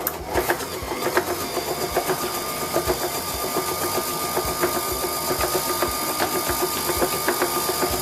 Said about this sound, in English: if you have a mixer like this, you want to put the paddle on